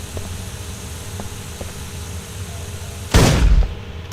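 A short, loud burst of SMG fire in the video game Deus Ex: Invisible War, lasting about half a second over a steady background hum, with a few faint clicks before it.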